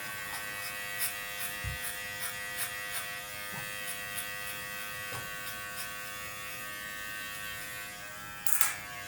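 Electric hair clippers fitted with a 0.5 blade cut hair during a self-administered skin fade, giving a steady close buzz with light irregular ticks and a brief louder burst near the end.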